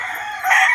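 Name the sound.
rooster crowing among purchased fighting chickens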